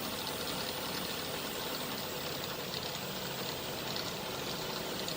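Milling machine facing cutter spinning at about 2,000 RPM while squaring a block, a steady, continuous mechanical whir and hum that holds level throughout without pauses.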